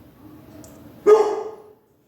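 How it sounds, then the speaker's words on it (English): A dog barks once, sharp and close, and the bark trails off into a brief echo. Before it comes a quiet room hum, and after it near silence. "I'm so sorry about this incessant barking."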